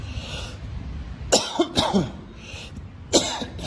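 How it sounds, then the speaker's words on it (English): Someone coughs several times in short, sharp bursts, close by, with a brief throat-clearing sound between them. "So I've got the coughs today."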